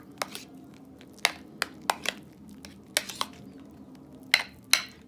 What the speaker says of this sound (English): let me keep stirring to loosen it up again